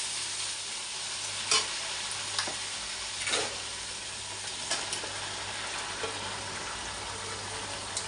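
Chicken pieces stirred into a spiced masala with potatoes in a pot, giving a steady soft sizzle and frying hiss with a few louder scraping stirs at intervals, close by and without talk.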